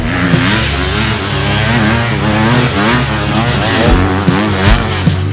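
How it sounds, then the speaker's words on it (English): A Husqvarna FC250 dirt bike, 2024-1/2 Rockstar Edition with vented airbox cover, ridden hard: a loud, near engine note that rises and falls continuously with throttle blips and gear changes, with no talk. "we had to call our most stylish test rider, Ezra Lewis, to ride this bike today"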